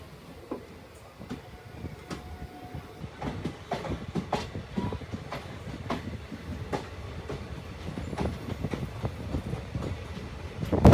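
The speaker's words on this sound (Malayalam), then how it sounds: "ആ ട്രെയിനാണ് ഈ പോയിക്കൊണ്ടിരിക്കുന്നത്" A train rolls past with steady clickety-clack of wheels over rail joints, the rhythmic clatter growing louder toward the end.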